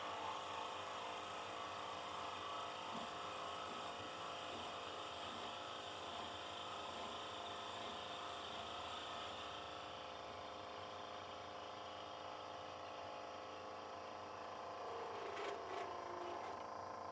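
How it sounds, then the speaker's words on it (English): A drill boring a half-inch hole into a bottle opener workpiece, a steady whirring drone that runs unbroken at low volume, then shifts pitch and tails off near the end. "I'm just gonna drill a 1/2 inch hole in here."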